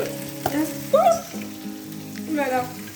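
Fish fries in a pan for a pepper soup, sizzling steadily up close with occasional louder spatters, while someone speaks over the cooking.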